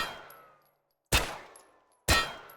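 Two sharp, loud gunshots from a B93R pistol in the TaCZ video game mod, about a second apart, each with a short decaying tail and no voices.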